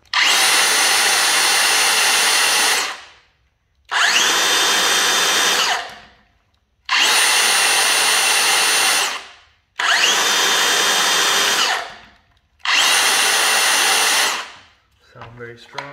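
A DeWalt 60-volt cordless power drill whirs at full speed in five long bursts of about three seconds each, with short pauses between them, loud and close.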